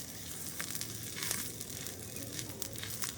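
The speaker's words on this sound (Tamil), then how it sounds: "இந்த கல்லுக்கு கொஞ்சம் எண்ணெய் பூசிட்டு தான் நாங்கள் ரொட்டியை போடணும்." Oil sizzles faintly on a hot stone griddle greased for roti, a quiet steady crackle with small scattered pops.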